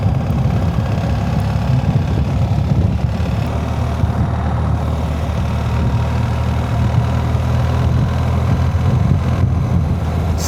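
BMW R 1300 GS Adventure motorcycle engine with the throttle closing on the approach to a roundabout in 4th gear, a steady loud low rumble with road and wind noise throughout and no talk.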